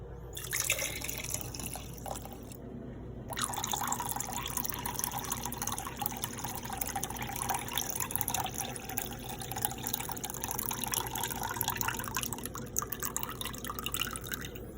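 Water poured off tomato seeds in a container, a steady trickling and dripping pour with a brief pause near the start, then continuous splashing at low level.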